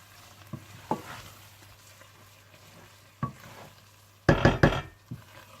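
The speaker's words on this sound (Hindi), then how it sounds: "अब इसे मैं सर्विंग डिश में निकाल लूंगी" Keema matar scooped from a pan into a serving dish, sparse spoon scrapes and clinks with a louder burst of metal clatter near the end, quiet between, no talking.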